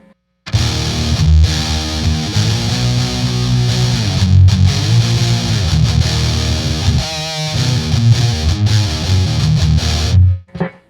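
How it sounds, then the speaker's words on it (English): Heavy metal riffing on electric guitar driven by an Electro Harmonix Soul Food pedal with distortion at full, loud, saturated chugs and sustained chords after a short silent start, fading out at the end. "And now we're gonna hold full distortion."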